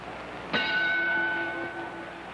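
A single boxing bell rings out once at the end of round five in a 1953 bout between Carmen Basilio and Kid Gavilan, a sharp metallic strike with a bright ringing tone that decays over about a second amid arena noise.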